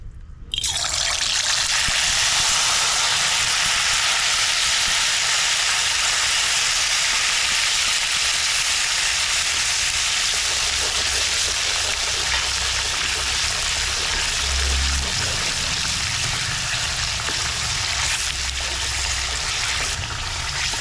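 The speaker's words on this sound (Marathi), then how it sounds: "इथे आपण तेल घेतलेले आहे तेल तापलेलं आहे तर आपण यात हा मसाला टाकूया" Masala spices hitting hot oil in a pan for a wood-fired mutton curry, giving a loud, steady sizzling hiss that carries on throughout with no talking.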